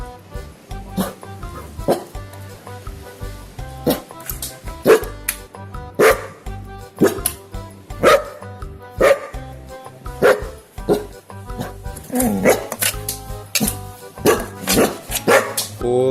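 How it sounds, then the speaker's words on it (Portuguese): A dog barks repeatedly in short, loud yaps at an irregular rhythm, alongside music and occasional voices indoors. "Obrigado pelos latidos, Titi."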